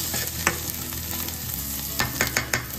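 Chopped onion and ginger-garlic paste sauté in a pan for pav bhaji: a continuous close sizzle broken by several sharp spatula scrapes and stirs, with no talking.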